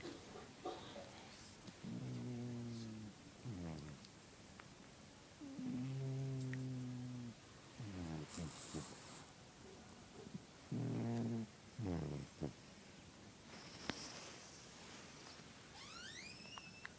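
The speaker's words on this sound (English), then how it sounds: "This is my cat snoring." A sleeping cat snoring: slow, regular rhythm of raspy inhalations and soft exhalations, repeated about six times, close and quiet, with a little faint background noise.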